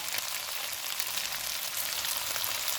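Capsicum, onion and green chillies sizzle in a pan alongside already-browned chicken, making a dense, even crackle that holds steady and close with no talking.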